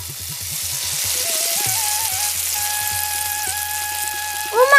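Hilsa fish fries in a pan in a rainy-season cartoon kitchen, giving a steady hissing sizzle that runs throughout alongside sustained tonal, music-like notes and low rhythmic pulses.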